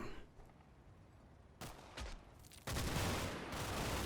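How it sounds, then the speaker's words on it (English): Sporadic gunfire crackles in a Combat Mission: Battle for Normandy battle, with isolated distant shots followed by a sudden dense burst of overlapping rifle and machine-gun fire that holds to the end. "Some sporadic gunfire between ourselves and the further away Germans."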